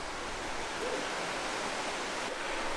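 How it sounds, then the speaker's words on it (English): Spring water flowing into a river in Shannon County, Missouri, a steady, broad rushing wash of running water, continuous and even, with no voices over it. "Here you can see where the spring runs into the river right here, making its way into the current river, and then continues on."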